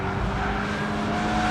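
A Subaru BRZ is driven hard through a sweeping turn on a race track. Its engine holds a steady, strained drone with a continuous rush of tire and road noise for the whole short stretch.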